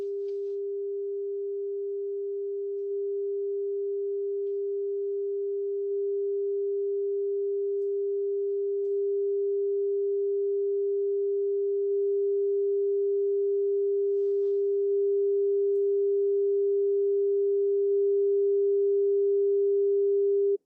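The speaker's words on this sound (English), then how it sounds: "so we have a sine wave that's increasing in steps" A pure sine tone from a WAV file plays steadily for about twenty seconds, its loudness stepping up in even increments, clean and alone with no other sound.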